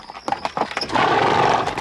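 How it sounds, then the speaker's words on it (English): Horse hooves clatter on stone in a few sharp strikes, then a loud, drawn-out whinny rings out close by, staged as a radio drama sound effect. "The clatter of hooves on stone. A whinny."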